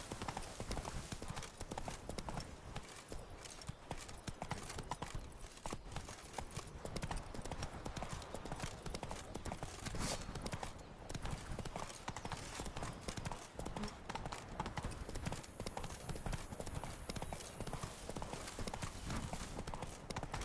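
In the Witcher 3 video game, the horse Roach gallops with a steady, fast clip-clop of hooves over a dense layer of game ambience, continuous for about twenty seconds and close up.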